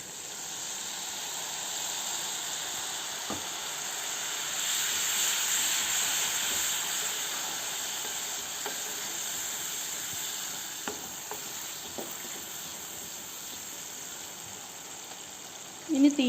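Water from steaming gooseberries hisses and sizzles steadily as it hits a hot pan of gooseberry pickle, a continuous loud bubbling fry with a few faint clinks of a utensil.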